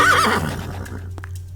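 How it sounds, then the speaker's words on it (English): A horse whinnies in a cartoon farm-animal read-aloud, one loud, clear neigh with a wavering, descending pitch that fades out over a second and a half, with no talking. "I see a blue horse looking at me."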